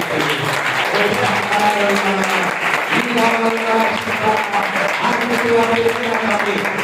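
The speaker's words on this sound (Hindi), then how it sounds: "हालेलुया, जोरदार ताली बजाइए।" Loud, sustained applause from a large crowd, with a sung or chanted melody carrying over the clapping throughout.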